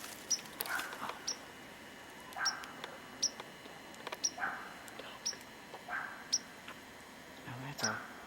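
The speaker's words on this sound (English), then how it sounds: "Now that right there's a sort of a finch." Small bird chirps repeat every second or so, thin high peeps from a finch or sparrow, fairly close, with faint background hiss.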